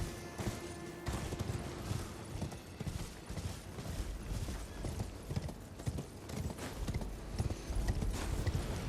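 A horse ridden through a fantasy video game world gives steady, close clip-clop hoofbeats in an even rhythm over a continuous backdrop of game ambience, with no voices.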